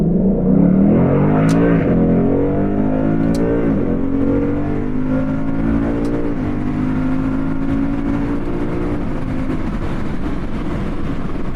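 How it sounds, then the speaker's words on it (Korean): A Ford Mustang 5.0 GT V8 accelerates hard under manual gear selection, its loud engine note climbing steadily with several brief dips as each gear shift lands, heard from inside the car. "기어를 제가 수동으로 변속하는 방식으로 한번 운전을 해볼게요"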